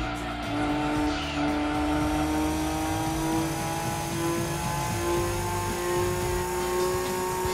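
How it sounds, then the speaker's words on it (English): Race car engine in Gran Turismo 2 with a prominent turbo whine, a loud continuous high-revving drone that climbs steadily, with tyre squeal mixed in and no talking. "The turbo sounds getting really annoying as well."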